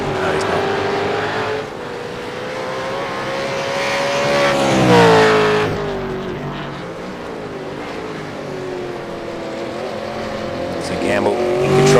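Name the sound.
V8 race cars racing at Zolder, including a Ford Mustang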